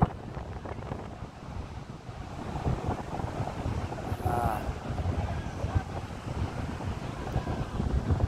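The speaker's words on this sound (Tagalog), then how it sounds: "ingay ng alon sarap pakinggan" Continuous rumble of small sea waves washing on a shore at the Molo boulevard, Iloilo City, mixed with wind buffeting the microphone, steady and fairly loud throughout.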